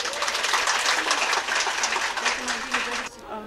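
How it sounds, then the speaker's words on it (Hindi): An audience claps at an International Women's Day prize distribution event, a dense burst of applause that holds steady for about three seconds and then cuts off abruptly. "तो एक ताली उनके लिए बजा दीजिए आप।"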